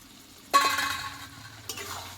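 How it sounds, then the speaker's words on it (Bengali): Potatoes and garlic hit a hot pan of chicken and spices with a sudden sizzle, followed by a second stir a moment later, close and fairly quiet. "চিকেন আর মশলার সঙ্গে এবার আলুটাকেও কষিয়ে নেবো"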